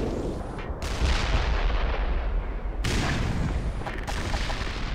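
A tank firing in the shooter game Black Mesa: Xen, two heavy booming cannon blasts with long rumbling tails, loud and close, filling the whole stretch with dense explosive roar.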